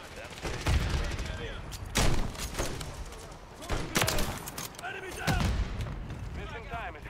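Incoming automatic gunfire in Modern Warfare III, repeated loud bursts and sharp cracks in several clusters, with a player's voice talking over parts of it.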